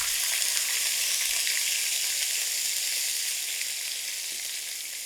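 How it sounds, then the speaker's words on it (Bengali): Cumin seeds tempering in hot oil for a fish curry, a steady bright sizzle close up, continuous and even with no talk. "জিরাটা একটু ফোড়ন দিয়ে নিলাম।"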